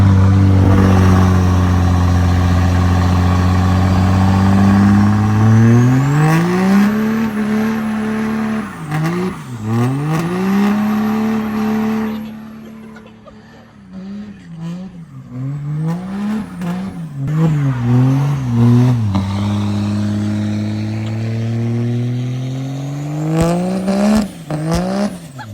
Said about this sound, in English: A small burnout.